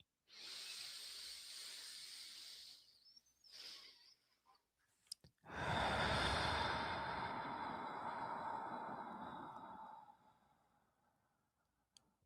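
A slow, deep breathing exercise: a long hissing inhale of a few seconds, a pause, then a longer, fuller exhale that fades out, heard close and alone.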